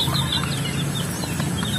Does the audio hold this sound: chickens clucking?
yes